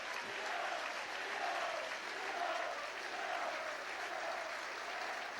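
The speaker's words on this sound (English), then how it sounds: "So great applause from round the stadium." A rugby league stadium crowd at St Helens v Catalans applauds a try, a broad, steady wash of distant clapping that rolls on evenly throughout.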